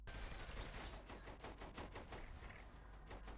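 Rapid bursts of gunfire from a shotgun in the Saints Row 3 video game, a fast run of sharp repeated shots, loud and close, with no speech over them.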